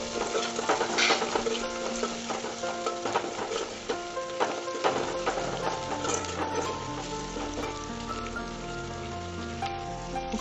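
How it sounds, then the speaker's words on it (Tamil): Green chillies and curry leaves sizzle and spatter in hot oil, a steady crackling fry with scattered pops and occasional stirring clatter, close and fairly loud throughout with no voices. "பச்சை மிளகாயும் கருவேப்பிலையும் சேர்த்து நல்லா வணக்குங்க"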